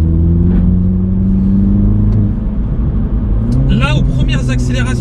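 A 2020 Mini GP engine hums low and steady, then swells as it picks up speed. A voice talks over the later part.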